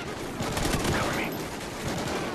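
Rapid gunfire from the video game Call of Duty: Ghosts, a dense, continuous rattle of shots that stays loud and steady throughout.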